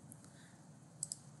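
Two quick faint mouse clicks while working in QGIS, close and quiet over a low background hum, with no talking.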